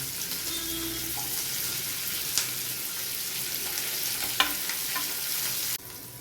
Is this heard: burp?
no